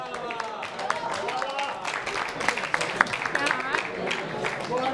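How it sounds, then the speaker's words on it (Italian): Crowd applause at the finish line of a cycling festival event, steady clapping throughout with a dense, continuous texture and scattered sharper claps, mixed with crowd noise. "facciamo un applauso."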